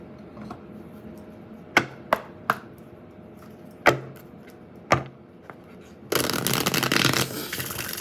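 Tarot cards are handled with several sharp, separate snaps and taps at first, then a dense riffle shuffle runs for about two seconds at the end, close and fairly loud with no talking.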